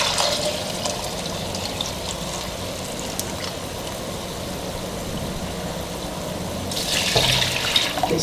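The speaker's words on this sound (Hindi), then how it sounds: "ये यखनी इसके अंदर डालेंगे।" Beef broth (yakhni) poured into a cooking pot for beef yakhni pulao, a steady liquid rush that holds evenly and brightens toward the end as the pour splashes harder.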